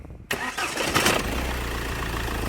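A Mahindra Scorpio mHawk diesel engine starts abruptly after a brief quiet moment, cranking and catching into a steady, close, loud idle with a low rumble.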